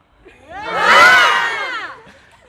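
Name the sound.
students exhaling while shouting together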